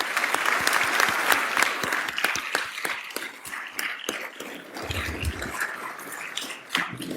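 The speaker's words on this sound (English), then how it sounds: "if we could give an applaud of gratitude to those who've led the way of our young people" Applause from an audience at a city council meeting, a sustained burst of clapping with sharp individual claps standing out, fading unevenly toward the end.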